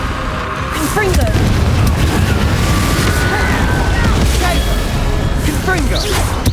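Confringo fire spell from Hogwarts Legacy blasting in combat, a loud booming burst followed by a sustained roaring rumble with whooshing effects and game voices shouting over it.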